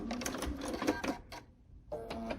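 Domestic sewing machine stitching off the end of fabric pieces for a Ukrainian sunflower window hanging, a dense close whirring run that pauses briefly before starting again.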